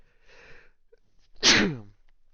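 A single loud sneeze bursts out near the microphone after a brief sharp intake of breath, then quiet.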